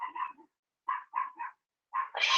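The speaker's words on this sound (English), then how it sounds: "the dog's barking." A dog barks in short sharp bursts, several separate barks with gaps between them and a louder harsher bark at the end, fairly close and clear, with no talking.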